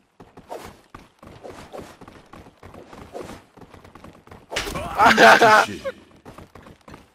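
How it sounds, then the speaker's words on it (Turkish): A string of sharp slaps from the video game Zula hits in quick succession under steady talking, followed by a louder burst of game noise near the end. "tokatlamaya başlayacağım şimdi. Ee, bir tokat geldi. Al sana bir tokat daha."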